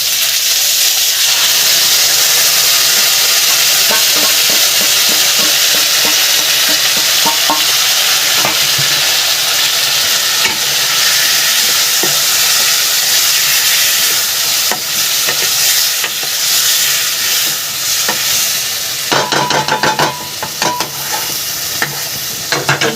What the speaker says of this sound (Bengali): মশলা কষানো হয়ে গেছে, এরকম তেল ছেড়ে দিয়েছে মশলাটা হয়ে গেছে।